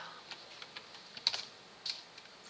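Someone types on a computer keyboard while coding in Java: soft, scattered keystrokes in quick irregular bursts, quiet and close, with no talking.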